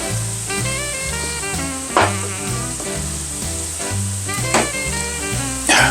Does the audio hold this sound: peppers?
yes